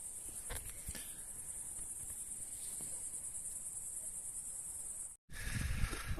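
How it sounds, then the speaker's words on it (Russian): Grasshoppers chirping at night at a riverside tent campsite in the Kirov region, a steady high shrill chorus close around, with a couple of faint knocks, then a brief cut and the chirring resumes with rustling. "Кузнечики поют."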